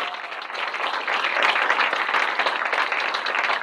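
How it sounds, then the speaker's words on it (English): Audience applause at a pitch training camp opening day in Chicago, steady dense clapping from a crowd sustained throughout, swelling slightly midway and staying loud to the end. "Give them all a round of applause again."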